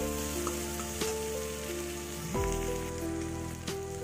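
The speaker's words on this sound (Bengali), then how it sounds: "আলুগুলো দিয়ে দিলাম, দিয়ে ভালো করে মশলাটা একটু কষে নেব" Potatoes fry with spice paste in a pan, a moderate sizzle running steadily under prominent background music.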